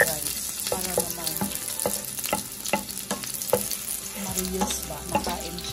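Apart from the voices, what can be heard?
leftover rice frying in a pan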